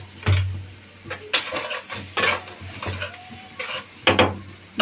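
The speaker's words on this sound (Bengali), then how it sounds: "ধুন্দুলটা এখন দিয়ে দিলাম।" Ridge gourd tipped into a hot frying pan and stirred, a thud as it lands followed by repeated spatula scrapes and clinks against the pan over a low sizzle.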